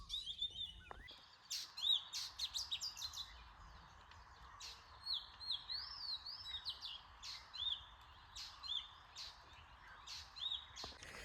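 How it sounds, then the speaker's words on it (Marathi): A bird in the Konkan countryside calls and sings under cloudy pre-monsoon skies, repeated bright chirps and whistled phrases at moderate distance over a quiet background of soft ambient hiss. "तर हा पक्षी ओरडतोय"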